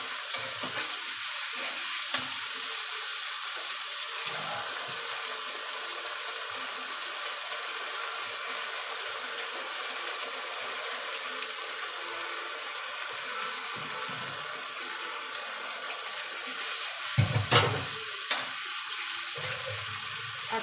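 A paste of ground coriander, chilli and garam masala sizzles and fries in a pan of mutton keema curry, a constant loud crackle with stirring and a brief clatter of utensils near the end.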